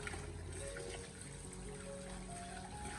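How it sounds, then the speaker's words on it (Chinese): Running tap water pours steadily over chicken feet as they are rubbed and washed in a basin, a continuous close splashing trickle without pause. "用流动的自来水，我们将鸡脚给它不停的搓洗一下"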